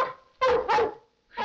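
A large dog barking loudly and close, two quick deep barks followed by a third after a short pause, with no voices over them.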